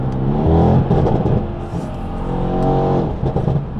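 Close, loud V8 car engine revving hard, rising and falling in a few sustained surges with no talk over it.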